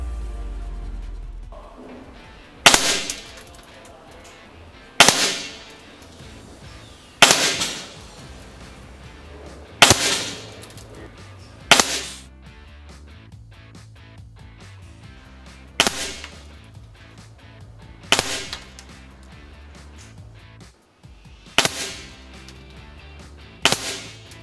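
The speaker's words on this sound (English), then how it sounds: "so we shot a bunch of pellets at 25 yards" Reximex RP air rifle firing pellets at a 25-yard range, about nine sharp individual shots spaced a few seconds apart, each a crisp crack with a short decay, fairly close and with no talking.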